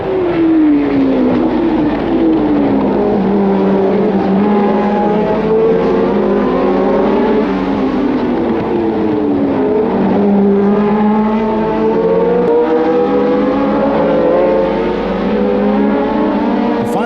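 Lotus and V12 Ferrari racing cars during a race, a continuous loud engine roar with several rising and falling pitch sweeps as cars accelerate and pass, sustained throughout with no talk.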